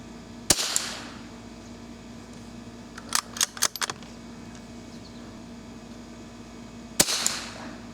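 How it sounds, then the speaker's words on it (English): A Savage target rifle fires two sharp, loud reports several seconds apart, each trailing off into a short echo, with a quick cluster of metallic clicks of bolt handling between them and no talking. "I'm going to shoot these 5 rounds."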